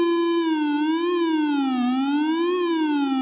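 Cwejman SM-1 synth module at setting 10 gives a steady, loud warbling tone that slowly wavers up and down in pitch, rich in bright harmonics, heard alone and unbroken throughout.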